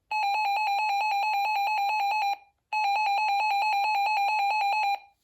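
A RadioShack 12-258 weather radio sounds its alert tone, a loud, rapidly pulsing electronic beep in two long bursts separated by a short pause.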